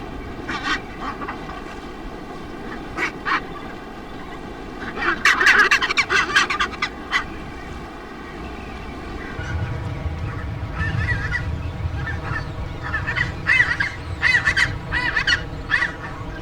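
A dense colony of chinstrap penguins calling in Antarctica, with overlapping harsh honking, braying cries rising and falling throughout, loud and close, bursts clustering in waves.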